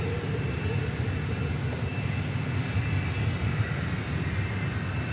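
A Southwest Airlines jet in the Missouri One state-flag livery rolls for takeoff at Dallas Love Field, its engines giving a loud, continuous broadband roar with no break.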